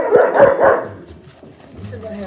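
Several sharp barks from large puppies burst out close together near the start, loud and near, then give way to quieter low rumbling background noise.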